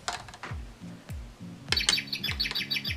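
Rapid electronic bird chirps from an electronic Monopoly board game twitter repeatedly over a backdrop of quick descending toy beeps, bright and close.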